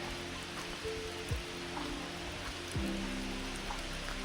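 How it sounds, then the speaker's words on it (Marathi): Heavy monsoon rain at Sudhagad fort, a steady dense hiss of falling water, fairly faint and even, with a couple of low thumps and no talk. "सुधागडला एवढा जबरदस्त पाऊस चालू झाला आहे"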